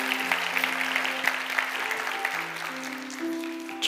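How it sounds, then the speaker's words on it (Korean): Church congregation at a youth worship service clapping in thanks, a continuous wash of applause from many hands, fairly loud and even, with faint background tones underneath. "감사의 박수 올리겠습니다"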